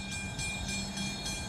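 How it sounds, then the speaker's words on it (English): A train rolls past at a steady distance, a continuous low rumble with faint rhythmic clatter and a thin sustained tone, heard alone without voices. "you can see the train coming that side"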